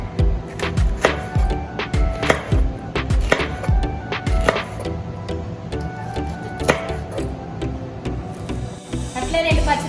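A knife chopping capsicum into thin long strips on a board: rapid, steady, close-up taps with a rhythmic clatter throughout, and a voice talking over it.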